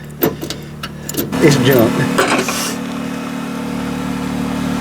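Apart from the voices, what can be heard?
car clutch noise with engine running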